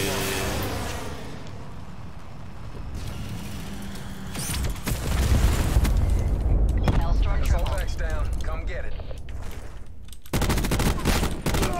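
Three-round burst rifle fire from Call of Duty Black Ops 4 crackles in rapid clustered volleys, loud and close, amid explosions and other battle noise with a player talking over it.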